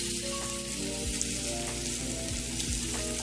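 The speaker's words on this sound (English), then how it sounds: "You're gonna take your salmon, and you're just gonna put it in your medium-high pan." Salmon being fried in olive oil in a medium-high pan for blackening: a steady, dense sizzle and crackle that holds at an even level, close and alone without speech.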